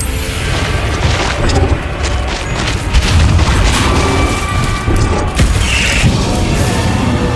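Spell explosions in Hogwarts Legacy, a video game, go off in a loud run of booms and crashes that fills the whole stretch.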